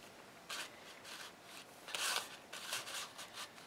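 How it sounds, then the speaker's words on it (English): Paper being cut shorter with scissors for a journal page decorated with melted metal paste, giving a few quiet, close rasping snips in short bursts with no talk. "I'm going to cut this a bit shorter"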